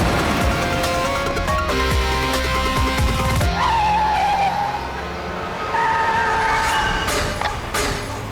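A car driven recklessly squeals and skids its tires in loud, repeated bursts, with engine noise and sharp impacts between them and no talking.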